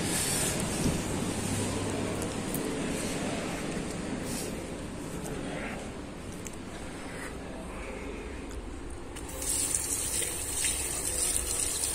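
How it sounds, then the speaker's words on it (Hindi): Water runs steadily from a foot-pedal operated tap in a hostel washroom, a continuous close gushing stream that swells louder near the end. "नीचे ये रहता है लीवर रहता है, इसमें से पैर दबाने से फिर पानी निकलता है"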